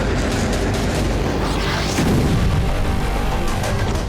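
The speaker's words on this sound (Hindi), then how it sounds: "ज़ेलेंस्की के आदेश पर यूक्रेनी फोर्स रूस में जबरदस्त हमले कर रही है।" Loud, continuous rumble of explosions from Ukrainian strikes on Russian targets, with a heavier boom swelling around the midpoint and dense crackling and roaring throughout, no speech.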